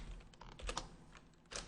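Someone types on a computer keyboard, producing a few faint, quiet keystroke clicks in quick, uneven succession.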